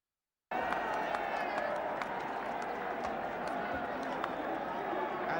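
A 1977 Wembley stadium crowd at Liverpool versus Manchester United applauds Liverpool, with a dense, steady roar of clapping and cheering filling the space after a brief silence.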